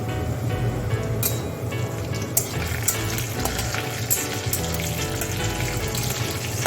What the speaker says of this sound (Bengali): আমি এখন শুকনো লঙ্কা আর বেশ কিছুটা কালো জিরে ফোড়ন দিয়ে দিলাম।